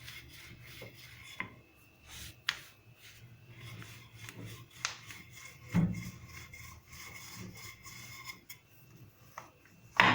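Chapati dough dusted with flour rolled out with a wooden rolling pin, soft irregular rubbing strokes near and faint, with occasional light knocks of wood on the board and no talk.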